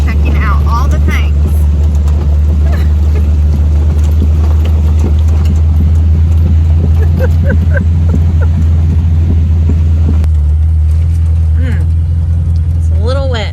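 A vehicle engine drones low and steady while driving over wet ground, with a constant rumble throughout and people talking over it.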